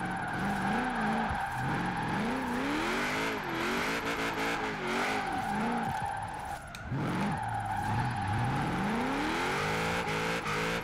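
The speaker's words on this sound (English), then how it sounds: "Pretty good through that corner. Held it pretty good. And transition." Mitsubishi Lancer Evolution IX drifting in Forza Horizon 4, its engine revving and sweeping up and down through a corner transition while tires squeal continuously, loud and steady throughout.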